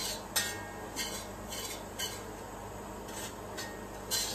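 Semolina being stirred and roasted in a pan while being browned, soft scraping with regular spoon clinks against the metal about every half second, quiet and close.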